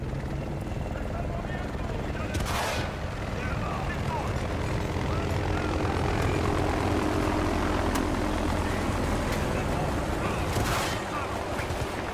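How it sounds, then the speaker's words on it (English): Helicopter taking off in the video game Battlefield: Bad Company 2, amid combat: a steady rotor and engine drone running throughout, with occasional explosions cutting through and players talking over it. "Enemy helicopter taking off!"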